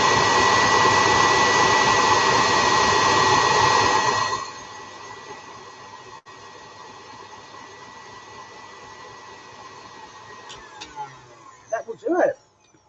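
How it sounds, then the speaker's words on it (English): A KitchenAid stand mixer whips to soft peaks with a loud, steady whirring motor for about four seconds. Then it shuts off, leaving quiet handling noises and a few faint clinks. "Yeah, I love my KitchenAid."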